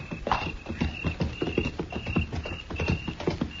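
Horses ridden at a steady walk in an old western radio drama, their hooves clip-clopping in a continuous rhythmic pattern, close and clear with no talk over them.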